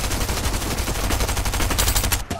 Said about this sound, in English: Oh, somebody shooting at me.